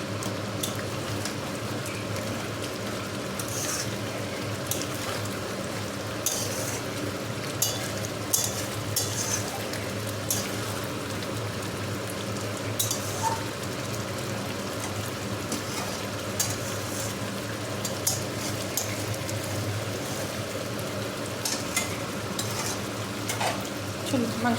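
Meat being braised in a pan hisses and sizzles steadily after a splash of water, a close, continuous crackling bubble with occasional stirring scrapes, with no talking.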